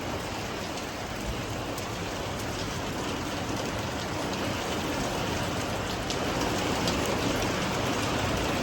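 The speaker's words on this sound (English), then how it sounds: "But it is hail nonetheless, and it's raining quite hard." Heavy rain with small hail pours down on a farm in a dense, steady patter, loud and continuous with no voices.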